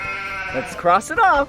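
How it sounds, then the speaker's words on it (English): Sheep bleating on a farm, two wavering cries in quick succession, close and fairly loud, with a voice speaking over the start. "it's a sheep."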